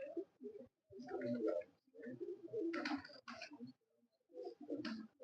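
Pigeons coo in short bursts separated by brief pauses, the throaty calls fairly close and quiet, with no talking.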